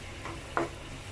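Finely chopped onion sautéing in a pan for a paneer sandwich, a soft continuous sizzle with a brief scrape of stirring, close and fairly quiet.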